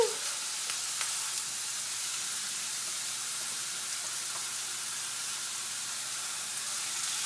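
Turkey burger patties fry in a pan with a steady, even sizzle, a soft continuous crackle holding at constant level throughout with no talking.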